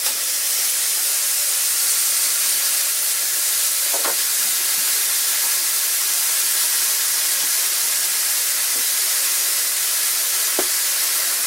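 A burger patty hisses steadily in a hot pan after being flipped, with garlic added, a continuous broad sizzle holding level with a few faint pops and ticks throughout.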